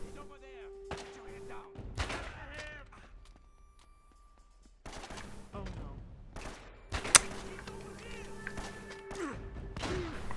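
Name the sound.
gunfire from shooting an enemy in the video game Uncharted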